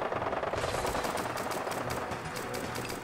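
A Bren gun fires in Fallout 4 with the Fallout London mod, a sustained loud automatic burst of rapid rattling shots running for several seconds without a break.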